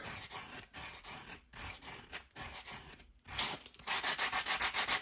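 Sandpaper rubbed by hand along the edges of a custom plastic body panel for an Axial Gilamon scale model truck, a close, steady run of rasping strokes that grows louder and more rhythmic toward the end, with no voices.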